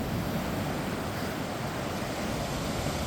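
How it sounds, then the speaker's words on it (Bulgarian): Big ocean waves roll in, a loud, continuous surf roar with wind buffeting the microphone throughout and no distinct individual wave breaks. "С големите вълни."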